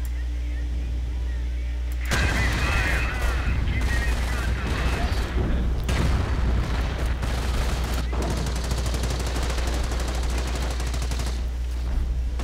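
Machine gun fire in the World War II strategy game Company of Heroes, continuous rattling bursts and battlefield gunfire that persist throughout under a steady low rumble, with faint game voices mixed in.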